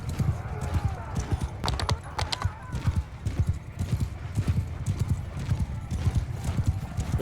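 Horse galloping in Mount & Blade II Bannerlord, rapid rhythmic hoofbeats close and loud throughout, with a brief whinny and battle noise behind.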